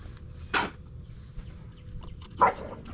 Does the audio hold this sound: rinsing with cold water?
no